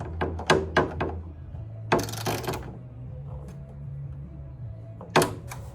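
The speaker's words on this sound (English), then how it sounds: "I just went through with the ratchet and tightened up all the nuts and bolts." A ratchet tightens the nuts and bolts on a ute tub canopy. Several quick, sharp metallic clicks come first, then a longer burst of ratcheting, then one more close click after a short pause.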